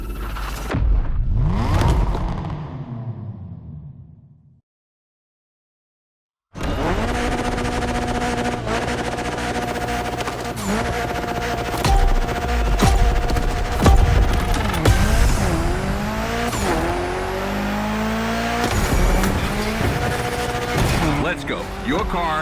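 Mitsubishi Evo 9 built for a gymkhana event in The Crew Motorfest revs hard after a brief silence, the engine note climbing and falling in loud sweeping pitch changes over music and game sounds, with sharp bursts like squealing tires and backfire pops.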